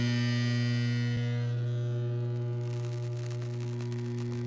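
A high-current electrical setup melting through a 6-inch steel bolt gives a steady, loud electrical hum and buzz that holds throughout and turns slightly rougher and more crackly toward the end.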